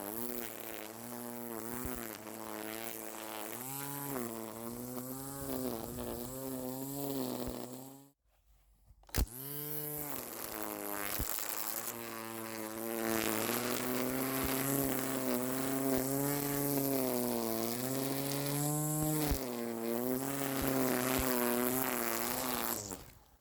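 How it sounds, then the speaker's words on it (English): A Ryobi One+ cordless grass trimmer cuts through long grass around walls and a shed, its loud, steady motor whine rising and dipping in pitch as it bites into the growth, with a brief stop partway through before it revs up again. "Now I've bought this trimmer for cutting long grass around walls, around the shed"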